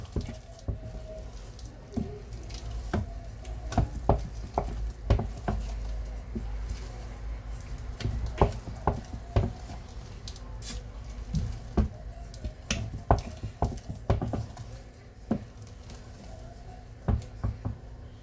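Thick red paste made from corn flour cooks while being stirred, giving off irregular wet squelches, plops and bubbling pops at close range over a low background hum.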